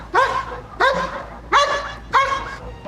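A protection dog barks at a decoy in four loud, evenly spaced deep barks, close and forceful, each a sharp burst with a short tail.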